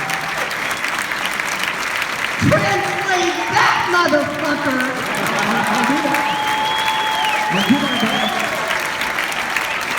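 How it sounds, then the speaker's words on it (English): A large audience applauds at the Grand Rex during an interview. Loud, steady, dense clapping fills the whole stretch, with voices speaking and calling out over it. "Je vous laisse applaudir parce que je pense que c'est vraiment beaucoup d'applaudissements."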